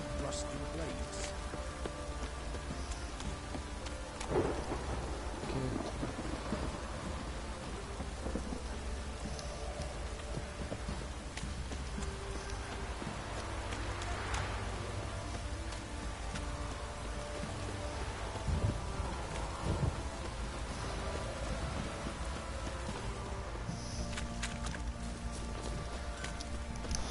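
Steady rain patters on surfaces throughout a PS4 game scene atop a building's roof, with a low distant thunder-like rumble beneath and a few faint knocks, the whole fairly quiet and continuous.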